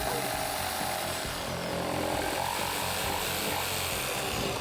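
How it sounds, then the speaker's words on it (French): A jigsaw cuts notches into a workpiece with a steady, loud, buzzing motor whine that holds constant through the clip, close by. "Étape découpage avec la scie sauteuse."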